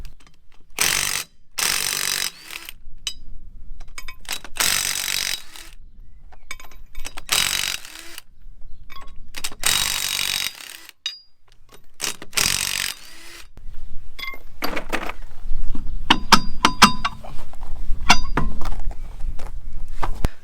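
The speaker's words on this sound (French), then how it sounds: "on va déjà retirer la roue afin d'avoir accès au système de freinage" Wheel coming off a Renault Trafic van outdoors: a string of loud ratcheting wrench bursts and metallic clicks with short pauses in between, then lighter clinks and rattles of lug nuts and tools near the close, with no talk.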